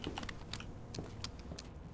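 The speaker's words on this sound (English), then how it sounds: "Typewriter." A typewriter in the video game Resident Evil 2 (2019), quick irregular clacking keystrokes, close and fairly faint, with no talk.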